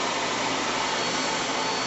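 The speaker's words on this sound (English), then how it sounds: "Then I'll move the seamer down the vacuum cooling tool like this, turn it on again." A vacuum cooling tool used for cut-pile carpet seaming runs with a steady, loud, close whooshing drone that holds even throughout.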